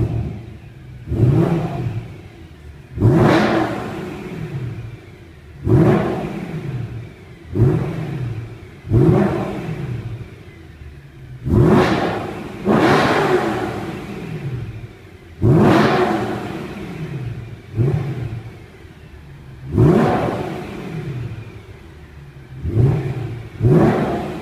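A BMW M3 V8 Limited Edition 500 with a race exhaust revs again and again, about ten sharp blips that each climb quickly and fall away, loud and close, with short idle gaps in between.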